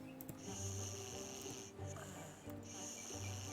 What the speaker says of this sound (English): I'm hearing somebody snore if I click it.